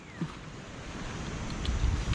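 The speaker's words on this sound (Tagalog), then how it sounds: "Humahampas yung mga hangin. Wag na oh, sobrang lakas ng hangin sa kabila." Strong wind gusts across a high cliff, buffeting the microphone with a low rumbling roar that builds toward the end.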